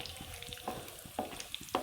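Rava unde frying in a pan, a soft continuous sizzle with faint scraping stir taps recurring every half second or so, quiet and close.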